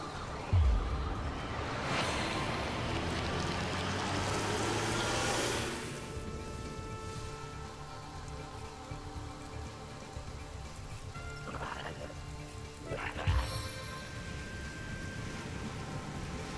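A rain spell cast in the game Divinity: Original Sin, a soft rushing patter of rain that swells for several seconds, then fades into quieter ambient tones with a couple of brief thuds.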